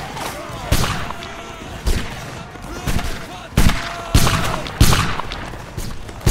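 Volleys of musket fire crack out in a Napoleonic-era line-battle video game, about seven sharp booming bursts spaced roughly a second apart, each rolling off with echoing tails, loud and close.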